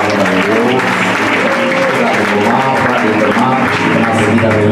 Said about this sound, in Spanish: Ahora a brindar un fuerte aplauso a la palabra de Dios.